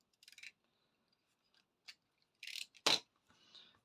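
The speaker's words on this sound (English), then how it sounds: "I'll just trim this thread off." Scissors snip through waxed thread after a bow is knotted on a small handmade journal, giving a few quiet, brief cutting clicks with a sharper snip near the end, close and isolated.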